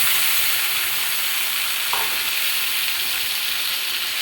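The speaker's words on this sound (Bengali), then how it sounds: "মাছগুলো ভাজা ভাজা হয়ে আসছে, এখন আমি মশলাগুলো এর ভিতরে দিয়ে দেবো।" Poya fish frying with spices in a pan makes a loud, continuous close-up sizzle with a dense hiss and one faint scrape partway through, and no talking.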